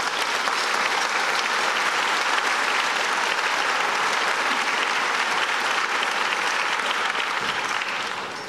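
An Association for a Better New York breakfast audience claps steadily, a full, even roar of hands that holds for about eight seconds and only starts to ease at the very end.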